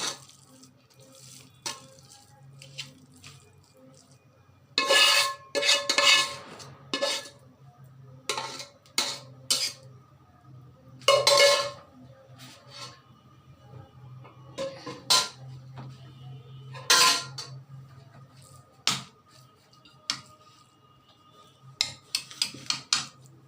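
Cooked sweet zarda pulao comes out of a metal pot in irregular bursts of scraping and clattering against the pot, separated by quiet pauses with faint kitchen background.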